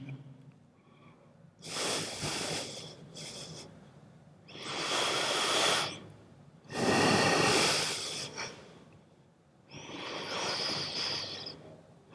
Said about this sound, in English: And breathe deep.